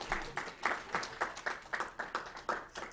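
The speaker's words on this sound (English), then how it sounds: "That actually deserves applause, I think." Applause at a book launch for Dr. Judith Shapiro's China's Environmental Challenges, heard as a small, sparse audience clapping in an uneven rhythm of distinct claps, fairly close and modest in volume, with no talk over it.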